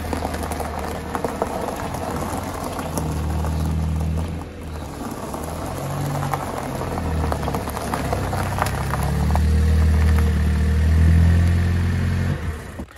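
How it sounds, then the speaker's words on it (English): A Mini Cooper S F56 with floating hub caps rolls back and forth at close range, its engine humming and surging in a low drone that rises and falls, with some light clatter and no speech. "I'll roll the car back and forwards."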